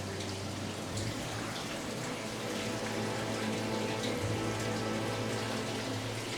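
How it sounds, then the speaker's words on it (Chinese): Water dripping steadily from a moss-covered stone dragon's mouth into a pool inside a cliffside cave, a soft continuous trickle with faint patters over a low background hum. "還在不斷的滴水"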